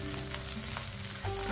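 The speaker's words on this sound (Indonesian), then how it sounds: "Daun jeruk dan daun salam. Tetap kita sangrai terus." Lime leaves and bay leaves fry in a small amount of oil in a pan, giving a steady close-up sizzle and crackle with no talk.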